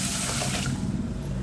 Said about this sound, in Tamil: இது முங்குற அளவுக்கு தண்ணியை ஊற்றி ஊற வச்சுருங்க